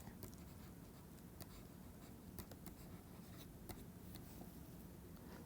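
Chalk or marker writing on a board during a mathematics lecture, faint scratchy strokes and taps scattered over a steady low room hum, with no one talking.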